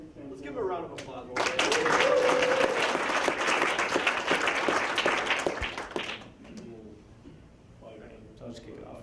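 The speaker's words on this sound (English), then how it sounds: "Let's give him a round of applause." A live audience at a startup talk event breaks into loud, sustained applause for several seconds. Speech comes just before and after, and the clapping fades as a voice returns.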